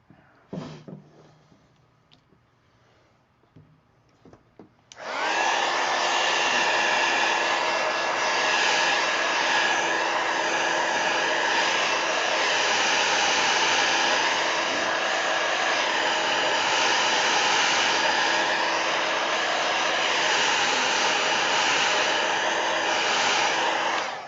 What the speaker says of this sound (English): Let's dry that ink before I get it all over my cool sweatshirt.